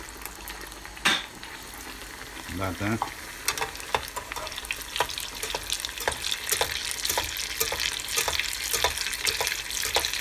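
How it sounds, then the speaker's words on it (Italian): Vegetable rustici of eggplant, provola, ricotta and mozzarella frying in fresh oil, a steady close sizzle with clinks of utensils and stirring, one short spoken word over it. "Facciamo una frittura in diretta, va?"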